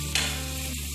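Liver, kidney and heart curry fries in a pan, a close continuous sizzle with a brief scrape of stirring near the start.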